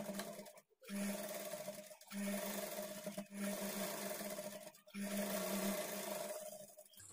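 An electric sewing machine stitches blouse cloth in steady whirring runs of a few seconds each. Brief pauses separate the runs. The sound is close and continuous, with no talking.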